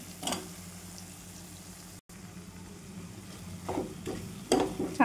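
Sliced onions sautéing in a pan for a spicy Maharashtrian onion curry, with soft sizzling and a few scraping stirs of a spoon near the end, fairly quiet and close, no speech.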